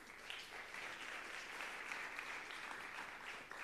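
Audience applause fills a conference hall after a talk on retail data, steady dense clapping for several seconds with no voices over it.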